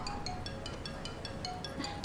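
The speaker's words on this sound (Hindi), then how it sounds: "रिंगटोन बजी।" A repeating electronic ringtone chimes in short regular pulses, steady and fairly clear against a faint background hiss.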